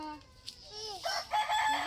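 A rooster crows loudly and close by in a village yard, one drawn-out call with clucking around it and no talk.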